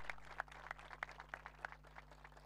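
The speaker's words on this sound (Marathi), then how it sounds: "एकदा जोरदार टाळ्या वाजवा मॅडमसाठी" Sparse, faint clapping from a small crowd at a cricket tournament prize distribution, applauding a woman presenting an award; about a dozen distinct claps in an uneven rhythm over a low steady hum, no speech.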